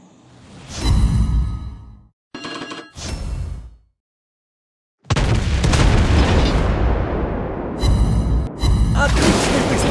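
Naval guns firing from a Soviet cruiser, the Admiral Makarov, in World of Warships Blitz: booming shots and explosions in separate bursts, loud and close, with whooshing tails and a silent gap between volleys.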